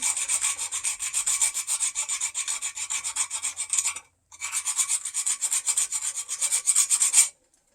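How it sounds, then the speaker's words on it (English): Fresh nutmeg rubbed against a grater for macaroni and cheese, a close, rapid run of rasping strokes that pauses briefly midway and then resumes, with no talk. "I'm also going to grate in some fresh nutmeg"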